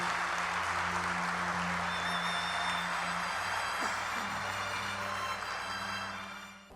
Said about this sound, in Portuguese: Vamos aplaudir o Senhor Jesus.